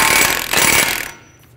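A hand ratchet tightening a bolt on the front wheel hub of a 2003-2008 Honda Pilot during a wheel bearing replacement, giving two close, loud bursts of rapid clicking before it stops.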